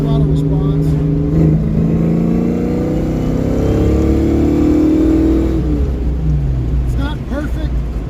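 A carbureted car engine, its idle mixture screws just turned richer, revs loud and close, rising and falling in pitch over a rumbling idle.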